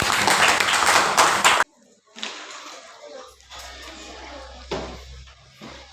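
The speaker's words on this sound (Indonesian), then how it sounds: "Tepuk tangan buat mereka berdua." Classroom applause for two students: a burst of clapping from a group, then quieter scattered claps and a few spoken words in an Indonesian school setting.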